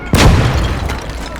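Field gun firing in the WWII game Call to Arms Gate of Hell, a single loud close boom with a sharp onset and a long rumbling decay.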